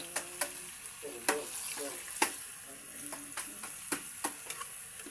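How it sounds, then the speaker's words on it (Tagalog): Caramelized sugar for banana cue is stirred in a pan, soft sizzling under a series of sharp scraping clicks and taps of the utensil against the pan, faint and close. "Ayan guys, na-caramelize na siya. Ito ng haluin."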